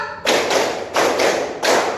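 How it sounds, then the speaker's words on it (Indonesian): A classroom group claps in counted patterns, sharp bursts of many hands striking together in a short uneven rhythm, fairly loud and close, with no talking. "Tepuk 1, tepuk 2, tepuk 3, tepuk 4, tepuk 5"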